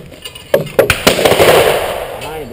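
Shotgun fired at clay targets on a sporting clays range: a quick cluster of sharp, loud reports close by around the first second, followed by a lingering noisy tail.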